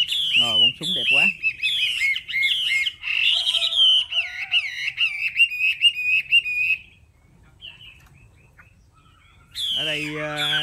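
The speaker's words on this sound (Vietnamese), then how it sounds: "Ở đây vừa có gà gái vừa có chim hót nữa." Birds chirp and whistle in rapid, varied phrases, loud and close, briefly pausing before a final burst of song.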